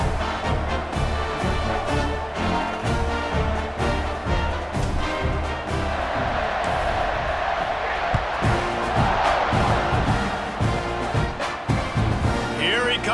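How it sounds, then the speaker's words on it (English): Stadium crowd in EA Sports College Football 26 after a score, a loud sustained roar with cheering and rhythmic pounding, swelling in the middle, while a commentator talks over it. "this crowd is buzzing after that last score"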